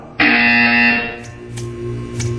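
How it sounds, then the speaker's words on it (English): A harsh electronic buzzer from the video game Portal 2 blares loudly for about a second, then fades into a lower droning hum with faint tones. "You will hear a buzzer."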